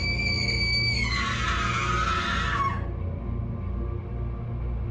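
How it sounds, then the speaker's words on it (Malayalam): A girl's scream serves as a horror-story sound effect set on a rainy night: a shrill, high-pitched cry rises and holds for about two seconds, then cuts off, leaving a low steady rumble. "ഒരു പെൺകുട്ടിയുടെ അലർച്ച"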